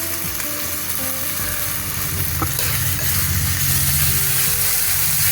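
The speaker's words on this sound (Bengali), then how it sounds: "মশলাটা কষানো হয়ে এসছে, এখন তেল দিয়ে করছে একদম।" Spice masala cooks in oil with a little sugar and green chillies for egg chana, giving a continuous close sizzle with occasional stirring scrapes and no voices.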